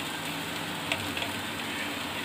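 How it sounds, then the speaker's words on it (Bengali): Semolina halwa sizzles gently in ghee as it is stirred. A soft, steady frying hiss runs throughout, with a few faint clinks of the spoon against the pan. "আবার একটু ঘি দিয়ে নাড়িয়ে দেব।"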